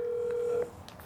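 A telephone being dialed to return a call gives a steady tone lasting about half a second. Faint short blips follow, and no one speaks.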